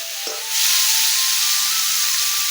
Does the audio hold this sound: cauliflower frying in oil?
yes